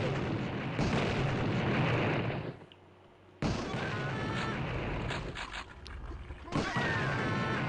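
Napalm launcher blasts in the video game Blood boom and rumble in dense bursts, with a short quiet gap between them, while a player talks over the action.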